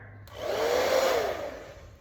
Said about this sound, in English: All right, now we have our blow dryer